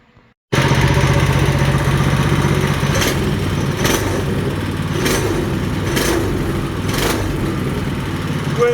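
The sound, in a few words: Coleman RSV200 engine revving at full throttle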